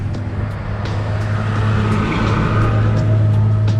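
Cars driving past on a city street, a steady, fairly loud rumble of engines and tyres that carries on without a break and swells slightly, with no talking.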